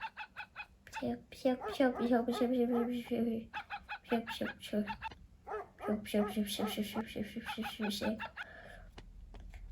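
A dog barks repeatedly in the Roblox video game, mixed with clucking fowl sounds and busy game noise that play steadily throughout.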